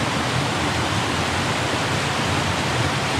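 Water rushing steadily over rocks in a stream on the Two Runs Nature Trail at Worlds End, a loud, broad, unbroken wash heard close by with no voices over it.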